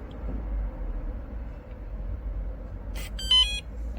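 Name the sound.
WELOCK ToucA51 smart door lock beeping when locking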